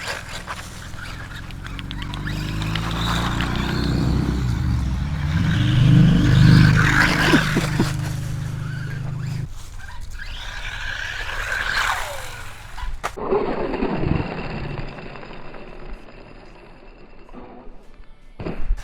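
A WLtoys 124008 1/12-scale RC buggy drives outdoors, its electric motor whining and rising and falling in pitch with acceleration and jumps, under steady nearby talk.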